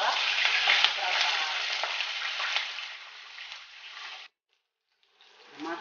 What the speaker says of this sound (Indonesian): Cara menggoreng, jangan dilempar ya ikannya ya.